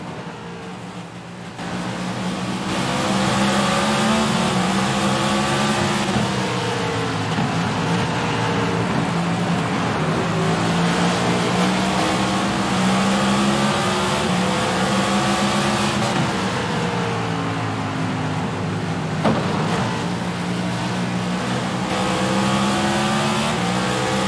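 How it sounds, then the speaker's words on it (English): A NASCAR Cup race car at North Wilkesboro roars at full throttle from onboard, a loud, sustained engine drone with slight pitch rises and falls as it works through lapped traffic. "We'll take you on board Larson, our leader, as he tries to work through these lap cars"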